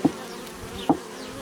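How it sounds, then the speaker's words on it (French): Honeybees buzzing inside a swarm trap hive, a close steady drone with two brief louder bumps. "Ah oui, c'est bon, il y a un essaim dedans."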